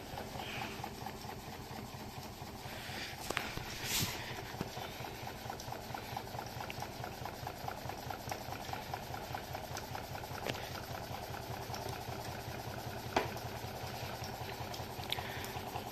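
A gamma-configuration Stirling engine with a generator runs on a small gas flame, giving a steady, quiet rapid ticking pulse with a soft hiss of the burner and a few faint clicks, close and alone.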